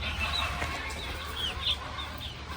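Several chickens cluck softly nearby in a village, short chirpy calls scattered over a steady low background hum.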